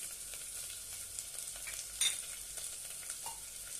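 Spices with garam masala, red chilli powder and salt stirred in hot oil for brinjal masala rice, a soft steady sizzle with light scraping and one brief louder clatter midway, no voices.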